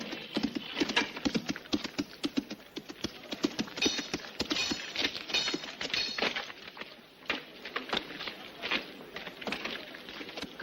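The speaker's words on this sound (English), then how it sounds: "Open the gate. Colonel Code is riding in." A horse rides in with steady clip-clopping hooves, close and rhythmic throughout, in a 1960s Western film scene about Buffalo Bill.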